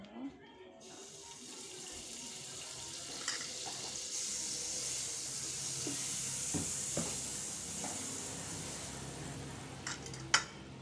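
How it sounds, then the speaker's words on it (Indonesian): Buttered bread filled with chocolate toasts in a hot pan, giving a steady, even sizzling hiss that runs throughout, with a few light clatters of the pan and utensils. "kita bakar sampai kering dulu ya, sampai warnanya coklat"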